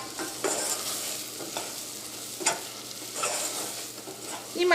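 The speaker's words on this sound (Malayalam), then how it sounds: "ഈ മല്ലിപ്പൊടി നമുക്ക് എണ്ണയിൽ ഇട്ടിട്ടൊന്ന് മുരിക്കാം." Coriander powder fries in oil for a Kerala-style egg curry, giving a steady, soft sizzle broken by a few scraping stirs of a spoon, close and without voices.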